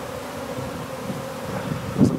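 Gentle honey bees hum as a faint, steady drone during the transfer of a nuc into a ten-frame hive, with soft wind noise and a short louder rustle near the end.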